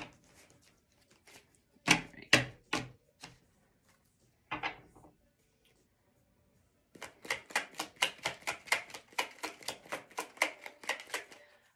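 A deck of cards is shuffled by hand in a quiet room, giving a few scattered snaps and riffles, then a rapid run of crisp, rhythmic flicking bursts near the microphone.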